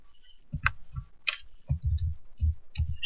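Keystrokes on a computer keyboard come in short irregular bursts of crisp clicks with pauses between, close and clear against a quiet room, with no voices.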